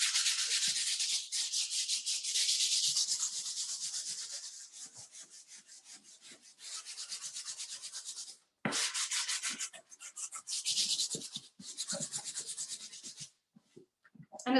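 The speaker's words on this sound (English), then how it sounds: "Okay, let's sand the back." Hand sanding across the painted back of a purse: repeated scratchy rubbing strokes in fast bursts, close and fairly loud, with short pauses between passes and no talking.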